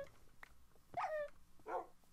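Dogs in the Minecraft video game give a couple of short sharp barks followed by a higher whining whimper, then another rough bark-like yelp, all fairly close with no talking.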